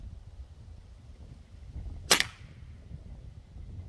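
A single sharp crack from a Diana Bandit air pistol fired once near the middle, loud and close against a quiet low background hum.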